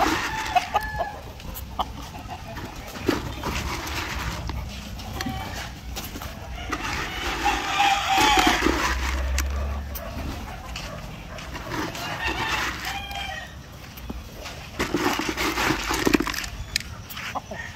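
Asil chickens clucking steadily with a rooster crowing among them in a farm setting, a busy mix of fowl calls near and far across the whole stretch, with some faint background noise.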